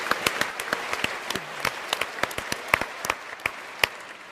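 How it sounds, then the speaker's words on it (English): Scattered, fairly faint clapping from an audience at a physics debate event, with individual sharp claps standing out irregularly rather than merging into a full ovation. "And so you all deserve a round of applause"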